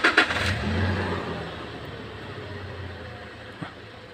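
A 2017 Toyota Hilux engine catches and starts, with two quick bursts of cranking and firing at the beginning settling into a steady idle, then a faint click near the end.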